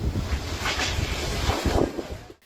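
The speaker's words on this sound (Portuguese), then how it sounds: "E em Ourinhos, a ventania assustou os moradores." Strong storm gusts buffet the microphone in Ourinhos, a loud roaring rush of wind with surging, uneven blasts that drop away abruptly at the end.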